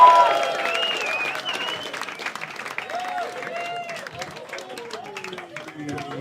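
A comedy club audience claps, whoops and cheers to welcome comedian Keego onto the stage: loud, dense clapping with shouted cheers right at the start, fading slightly but continuing under an announcer's voice.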